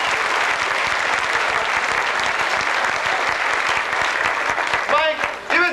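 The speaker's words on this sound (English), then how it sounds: "Let's have a big round of applause for Mike." An audience claps steadily for a volunteer at a magician's stage show, a dense sustained applause with a voice briefly rising over it near the end.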